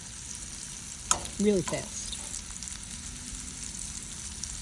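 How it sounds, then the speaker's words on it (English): Jumbo shrimp sizzle in very hot oil, a steady close hiss and crackle that runs throughout, with a brief voice and a clink of utensils partway through. "You see how quickly they sizzle,"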